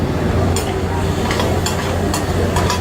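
Steady scraping and sizzling as stuck-on food is worked off a hot pan with a little water, with a few brighter scrape strokes over continuous frying noise.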